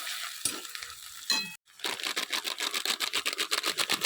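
Tomatoes, green peas and green chillies sizzle and crackle in a hot wok, with a brief clatter and a short gap before a rhythmic stirring scrape over the frying.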